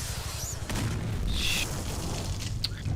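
A motorcycle explodes in Devil May Cry 3, giving a dense, low rumbling boom that fills the whole stretch with a heavy roar, and sharper crackling bursts flare up briefly over it.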